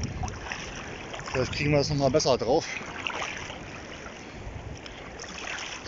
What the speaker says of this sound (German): Echt übel, die Wellen hier.